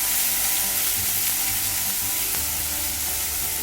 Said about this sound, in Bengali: আদা বাটা দিয়ে এবারে এটাকে একটু নাড়াচাড়া করে নেব।